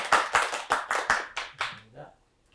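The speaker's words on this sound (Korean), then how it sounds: "박수로 한번 쳐야 되겠습니다" A small audience claps for a lecturer at a character-education lecture, a short burst of about eight sharp, evenly spaced claps that slow and fade out, close and alone.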